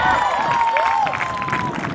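A crowd claps and cheers loudly for the 2013 batch, runner-up in boys' cricket, at a college event. The steady applause lasts about two seconds with voices mixed in.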